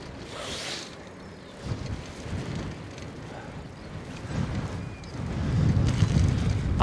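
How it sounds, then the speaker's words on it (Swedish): Strong wind gusts buffet the microphone outdoors during a bike ride, a steady low roar that swells and grows louder toward the end, with no one speaking. "det blåser rätt duktigt fortfarande"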